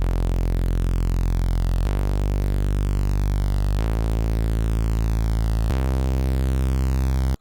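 A loud Sylenth1 Reese bass with a slightly detuned second oscillator plays four long, sustained notes of about two seconds each, each note sharp at onset and then thick and steady, with nothing else audible.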